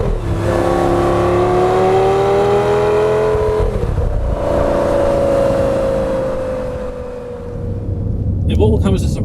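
A car engine revs hard toward redline, a loud rising howl that climbs, drops at a gear change, then pulls up again before fading, with voices over the engine near the end.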